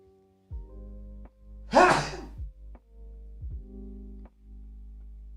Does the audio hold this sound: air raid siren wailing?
no